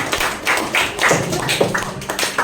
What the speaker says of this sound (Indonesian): kita beri tepuk tangan pada kita semua ya